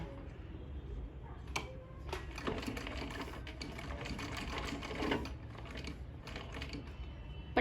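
A sewing machine stitches straight piping onto a garment neckline, running as a close, steady mechanical whir with rapid ticking needle strokes and brief changes in speed.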